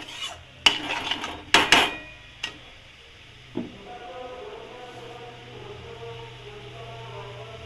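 Small lote fish being stir-fried dry in a pan, with several sharp clanks of a metal spatula against the pan early on, then a low steady sizzle, close by, no speech.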